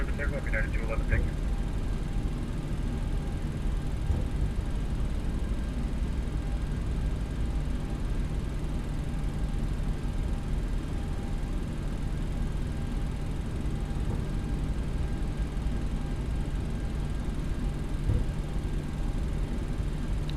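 Steady, broad jet engine roar of a Boeing 737-800 on its takeoff roll down runway 23 right in the X-Plane 12 flight simulator, continuous and even throughout, with radio chatter and cockpit talk over it.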